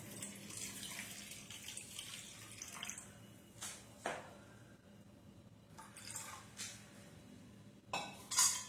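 Hot water, about a glassful, is poured into a pot in a home kitchen while making a coffee-soaked toast dessert. A soft, steady watery stream runs throughout at low level, with a few brief clinks of utensils near the end.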